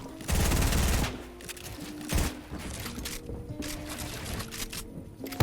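Rapid automatic gunfire in Fortnite arena play, a loud sustained burst followed by a sharp single shot and further scattered shots and clatter.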